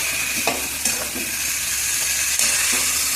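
Brinjal pieces frying with turmeric in a pan for a South Indian poriyal, a steady close sizzle and hiss with a few soft stirring scrapes, loud and continuous with no talking.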